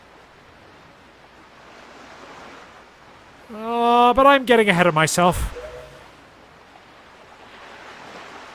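Ocean waves and wind at sea in the video game Zelda: The Wind Waker wash as a soft, steady hiss, faint at first and then masked in the middle by a voiced exclamation with a line of speech before fading back to the surf.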